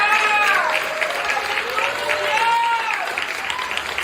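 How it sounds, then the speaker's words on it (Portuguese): A church congregation at a women's service applauds, with a dense wash of clapping and voices calling out over it, including rising and falling exclamations throughout. "Dá um aplauso ao Senhor, igreja."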